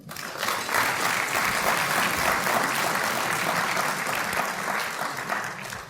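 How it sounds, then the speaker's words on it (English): Loud, sustained applause from an evening event audience greeting the host, a thick wall of clapping that holds steady for several seconds before tapering off. "So with a round of applause, please"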